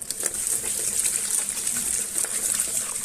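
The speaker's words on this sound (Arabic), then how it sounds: "احط بقى فيها ميه وادوب الدقيق ده" Water gushes steadily from a tap into a bowl holding flour and lemon with its peel, a continuous splashing pour that stays close and fairly loud throughout without any voices.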